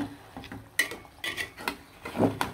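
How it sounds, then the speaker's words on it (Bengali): Beef curry (bhuna) being stirred in a cooking pot, with scattered close clinks and scrapes of a spoon against the metal pot in an irregular rhythm, no talking. "মাংসগুলো কিন্তু আবারও নাড়াচাড়া দিতে চলে আসলাম"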